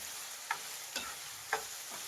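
A spatula scrapes through onion and tomato masala with salt in a pan for a mutton fry, making three soft, separate strokes over a faint, low sizzle in a quiet kitchen.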